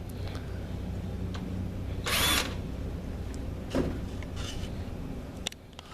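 A power tool, likely a drill or driver, whirs briefly while setting screws into a heating element clip on an ES2000 unit, with a low motor hum underneath and a second shorter burst.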